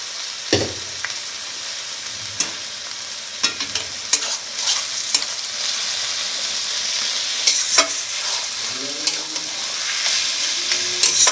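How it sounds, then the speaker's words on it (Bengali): Mashed eggplant bharta, mixed with ridge gourd leaves, is stirred in a kadai. A spatula scrapes and taps the pan in irregular strokes over a soft, steady sizzle, close and fairly loud. "একটু নেড়ে নেব কড়াইতে"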